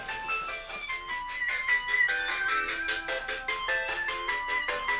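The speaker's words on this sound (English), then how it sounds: "a phone's ringing" A phone rings with a bright, repeating electronic melody that pulses steadily and fills the whole stretch at moderate volume, with no voices over it.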